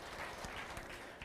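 Faint applause from an audience at a Hall of Fame induction ceremony, a brief, soft patter of clapping heard from a distance.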